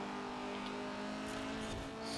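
Honda S2000 engine in the Forza Horizon 4 racing game, a steady sustained drone held at constant revs, fairly quiet and continuous with no talking over it.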